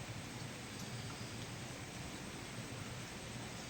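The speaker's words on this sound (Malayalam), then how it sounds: "ഭയങ്കര മഴ കൂട്ടുകാരി." Heavy, steady rain falling in a rural garden plot, a constant faint hiss with no breaks and no voices.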